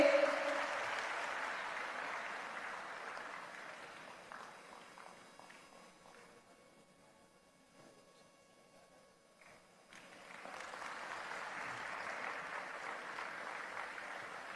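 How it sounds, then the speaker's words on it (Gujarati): An audience applauds to welcome the chairman at a foundation-stone ceremony. The loud clapping thins out midway and then swells again toward the end. "આપણા સમાજના ગૌરવ એવા માનનીય અધ્યક્ષનું તાળીઓ સાથે અભિવાદન કરીએ."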